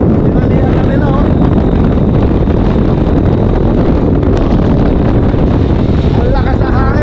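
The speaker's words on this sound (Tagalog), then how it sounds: "Ang lakas na hangin" Strong wind blasts across the beach train at Haeundae Blueline Park in Busan, South Korea, a loud, constant roar buffeting close against the microphone throughout.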